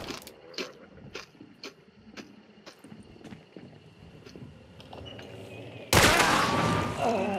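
Gunfire in the video game Hunt: Showdown: a series of sharp, spaced shots and mechanical clicks over a quiet background, then a sudden loud burst of noise near the end.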